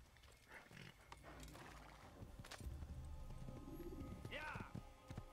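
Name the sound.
horse clip-clop in video game Assassin's Creed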